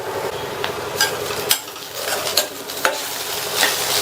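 Ivy gourd poriyal stir-fried in a pan: a steady close sizzle with repeated scraping and clattering stir strokes at an uneven rhythm, no talking.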